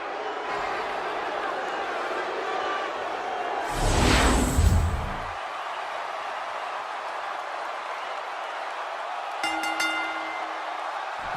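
Arena crowd from the WWE 2K16 wrestling video game rises in a brief loud cheering swell, then settles back into a low murmur with faint ambience, and a short tonal chime sounds near the end.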